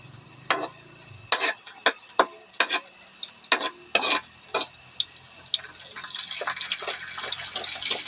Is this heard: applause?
no